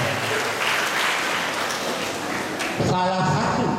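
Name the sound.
audience applause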